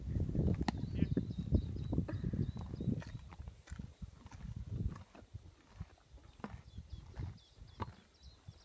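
Horse hooves clip-clopping on a beach, a steady, uneven run of soft thuds close by, with a high electronic whine and faint background noise over it and no talk.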